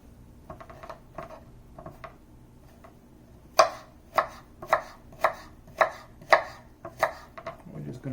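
Knife chopping broccoli on a cutting board while cooking Hunan-style shrimp and broccoli: a few light taps, then a steady run of about ten sharp, close chops at an even rhythm.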